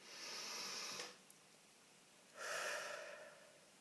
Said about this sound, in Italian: facciamo un bel respiro profondo